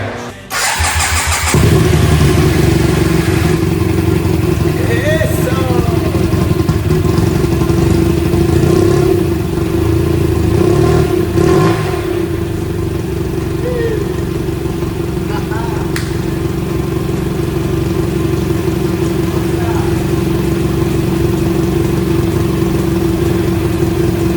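A motorcycle engine cranks and catches at the start, then settles into a loud, steady idle that runs continuously close by, with someone talking over it.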